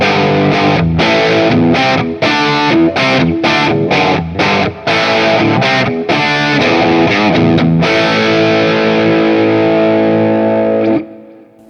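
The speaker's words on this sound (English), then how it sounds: "that was the bridge pickup with kind of some medium overdrive" Electric guitar on the bridge pickup with moderate overdrive plays a run of choppy chords, then rings out on a sustained chord that cuts off abruptly.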